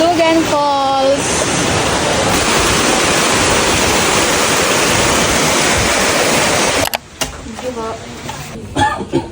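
Hulugan Falls in Laguna roars as a loud, steady wash of falling water. Voices are heard briefly at the start and again near the end.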